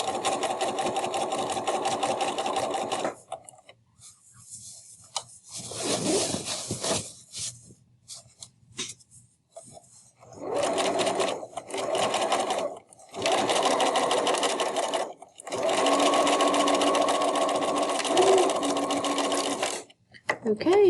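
A sewing machine hems the side of a fabric tote bag, running in loud, close bursts of rapid stitching separated by short silent pauses.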